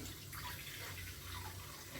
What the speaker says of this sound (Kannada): ಒಂದು ಕಾಲು ಲೀಟ್ರಸ್ ಆಗೋಷ್ಟು ನೀರು ಹಾಕೊತೀನಿ